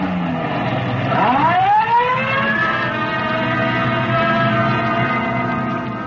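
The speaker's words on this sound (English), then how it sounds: "Code 3, red light and siren." A police car siren winds up from low to a sustained high wail, loud and near, over an engine's steady rumble.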